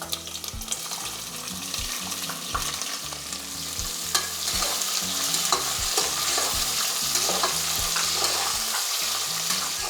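Sliced onions and curry leaves frying in a pan for a rice dish, a steady loud sizzle with frequent stirring scrapes and clinks, no talking.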